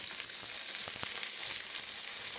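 Egg and vegetable omelette with grated coconut sizzling steadily in a pan, a constant bright frying hiss with a few soft stirring taps, close and without speech.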